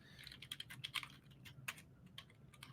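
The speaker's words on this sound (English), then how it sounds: "I be clicking and clacking like a mug on that keyboard" Rapid, uneven clicking of keys on a computer keyboard, close and fairly quiet, in short bursts with brief pauses.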